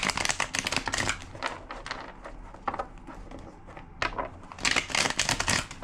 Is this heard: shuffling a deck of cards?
yes